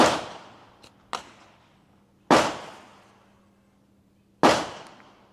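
Sharp gunshots crack out on a firearms range during a timed drill: a faint pop, then one loud shot, followed by two more single blasts spaced about two seconds apart, each with a long echoing decay and no talking.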